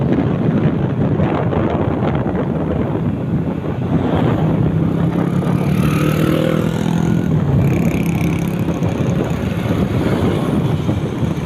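A Yamaha Aerox scooter engine runs steadily outdoors, its hum buried under heavy wind buffeting across the microphone for the whole stretch, with no voices.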